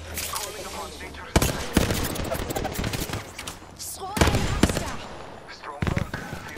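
Havoc rifle gunfire in Apex Legends rattles out in sustained automatic bursts, loud and close, with short pauses between strings of shots and a voice talking over part of it.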